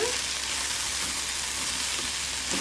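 Okra and onions frying in a pan without sliminess, giving a dense, even sizzle that stays steady and close throughout.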